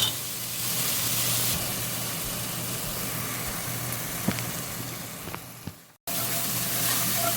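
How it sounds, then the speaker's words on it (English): Chopped onions frying in a pan for red wine braised beef short ribs, a steady close sizzle and hiss with a few small pops, cutting out briefly near the end before resuming. "fry that up until it's a little translucent"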